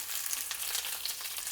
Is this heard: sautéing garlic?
yes